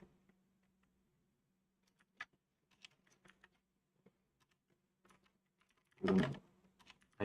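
Typing on a computer keyboard during game development work comes through as sparse clusters of light key taps. A low steady hum runs underneath, and a louder burst of keystrokes lands near the end.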